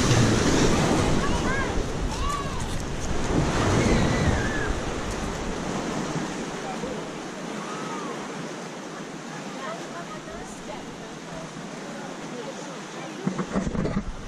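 Ocean surf rolls and breaks along a California shoreline, a steady loud wash with gusting wind buffeting the microphone, the surge easing midway, while people speak over it now and then.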